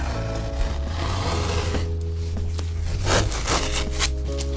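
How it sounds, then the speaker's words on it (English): Tape is pulled off a canvas painted with liquid acrylic in black, blue and white, producing a continuous, fairly loud scratchy rasp close by with no voices. "We're gonna peel this tape off now and see what we have for a cutoff."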